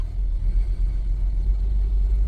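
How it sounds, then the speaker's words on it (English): A car engine idling high on its own after a cold start in freezing weather, a steady low rumble heard close and continuous with no talk. "I'm not touching the gas pedal at all, so it's doing that high revving on its own."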